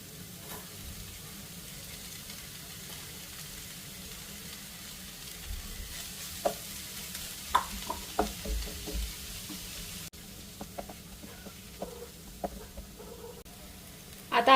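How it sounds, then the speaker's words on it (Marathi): Fenugreek leaves and grated potato sautéing in an oily pan, a low steady sizzle with scattered spatula scrapes and stirring taps, no talk. "तर आता हे असं व्यवस्थित परतून घेऊया"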